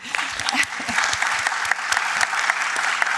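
Audience at a mediation congress gives a steady round of clapping, many hands close and loud with crisp individual claps, sustained throughout without breaking off.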